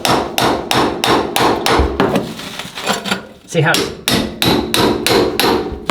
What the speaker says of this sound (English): get that big hammer, and just kind of go like that